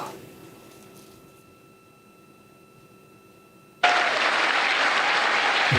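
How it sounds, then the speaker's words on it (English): Mission Control erupts in loud cheering and applause after the Artemis II crew is extracted, a sudden burst that follows a quiet stretch and keeps going. "The cheers of Mission Control are echoing across the country right now."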